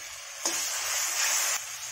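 Finely chopped tomatoes are stirred into frying masala in a kadhai for a chicken dish, giving a brief, close burst of scraping sizzle lasting about a second.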